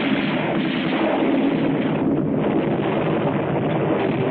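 Wartime battle scene from a WWII film, a dense, continuous roar of artillery and gunfire blended into a muffled rumble without distinct individual shots, steady and loud with no voices.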